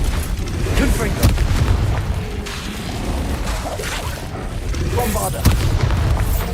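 Confringo blasting curses exploding in Hogwarts Legacy gameplay, a series of deep booms and bursts with whooshing spell sounds, several heavy impacts spread irregularly across the clip over a dense, loud background of game noise.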